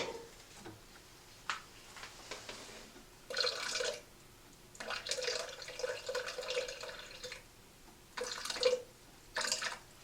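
Water trickles and splashes in short bursts as it is poured into a film developing tank being set up for 120 film, with quiet gaps between pours.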